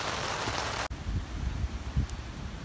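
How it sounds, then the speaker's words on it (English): Heavy rain pours down steadily at a wilderness canoe campsite in Temagami, a dense, even hiss of drops drumming on surfaces nearby, with no voices. "it's just started pouring"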